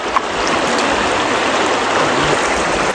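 Steady rushing of a stream, water flowing continuously and fairly loud with broadband splashing texture, no voices.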